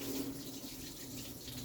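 Cooked pasta being drained into a kitchen sink, a steady close rush of pouring water splashing continuously at low volume with no voices.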